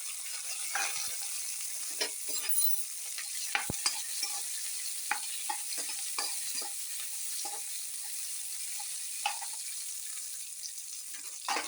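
Ginger and garlic sizzling in hot oil in a pan with green chillies, a soft continuous hiss punctuated by scattered crackles and clicks of stirring, fairly quiet and without talk.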